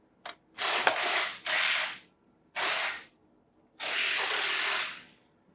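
A ratchet tool spins a brake caliper bolt out on a Renault Trafic during front wheel bearing work. It gives four short, loud mechanical whirring bursts, close by and uneven in length, separated by brief silences.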